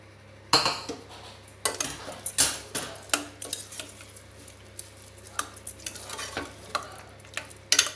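Cashews roasted in ghee, cumin and pepper being stirred into pongal with a metal spoon, giving repeated close scraping and clinking against the pot in uneven bursts, with a faint steady hum beneath and no talk.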